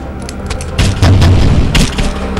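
A booming shot in the mobile game Stupid Zombies 3 blows apart a crowd of zombies, a loud thudding blast with rumbling impacts, heard alone with no talking.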